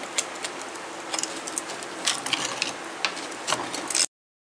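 Bolts being loosened with a ratchet wrench on the rear axle of a Suzuki Samurai, heard as a run of close, dry metallic clicks and ticks with scattered sharper taps, and no talking.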